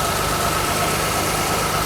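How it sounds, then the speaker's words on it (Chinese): Mercedes W123 280E with a repaired fuel distributor, cold engine idling after fifteen years off the road: a steady, even mid-pitched hum close to the microphone, with no voices. "我们来看它的怠速啊"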